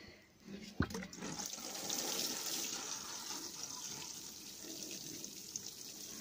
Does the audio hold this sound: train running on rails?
no